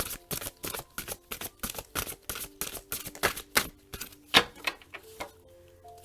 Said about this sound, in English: These cards are humongous, so it's hard to shuffle the way that I would like.